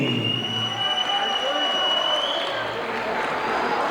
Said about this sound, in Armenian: Ժողովուրդ ջան, կարող եք բարձր ծափահարել բոլոր մեր